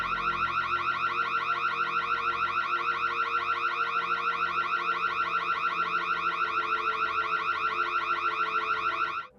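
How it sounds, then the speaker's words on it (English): A piercing security alarm at a house blares continuously and loudly in a steady, rapidly pulsing electronic tone, alone and unbroken for about nine seconds before cutting off abruptly. "a piercing security alarm disrupts his plans, compelling him to hastily abandon the scene"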